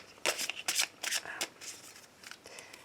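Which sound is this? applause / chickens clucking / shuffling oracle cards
shuffling oracle cards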